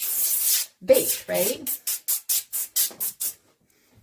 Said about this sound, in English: So I'm putting that in, spraying it a little bit